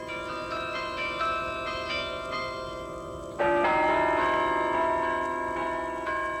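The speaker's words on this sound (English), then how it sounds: "Those are the sounds of the beautiful bells here at the Deeds Carillon in Carillon Park." Carillon bells of the Deeds Carillon in Carillon Park, Dayton, Ohio ring in overlapping, sustained tones, a new louder strike midway adding rich resonant chimes that linger and decay.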